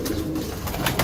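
A black-necked pigeon, all black with a black throat, coos close by in a brief low murmuring call among a pigeon collection, with no voices.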